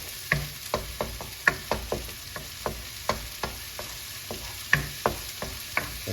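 Egg and rice stir-fry in a pan over high heat, a soft continuous sizzle broken by a regular rhythm of spatula scrapes and taps against the pan, close by and without talk.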